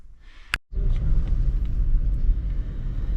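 A car driving along the road at dawn, heard from inside as a steady loud low rumble of engine and tyres, starting after a brief sharp knock and continuing without talk.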